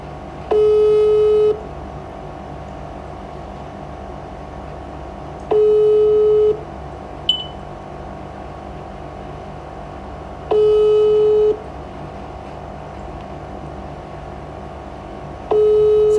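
Phone call tones repeat at regular intervals, four steady beeps about five seconds apart over a quiet hum, with no voices.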